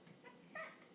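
A house cat lets out one brief, faint meow indoors, a short rising cry in an otherwise quiet room.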